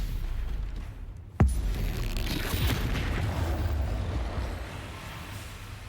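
Stupefy spell cast in the Hogwarts Legacy video game: one sharp, loud magical impact hits at once and then trails into a long rumbling wash of sound that slowly fades.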